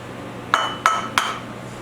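Three sharp knocks of a hammer striking a hard plastic block on a camshaft, evenly spaced about a third of a second apart, close and fairly loud.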